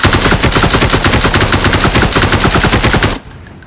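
Sustained automatic fire from an AK rifle in a video game, rapid evenly spaced shots hammering loud and close for about three seconds, then cutting off abruptly to quiet ambience.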